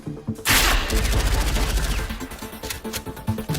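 Widowmaker's SMG in the Overwatch video game fires a rapid, sustained burst of shots that keeps going and then breaks into shorter bursts, loud and close.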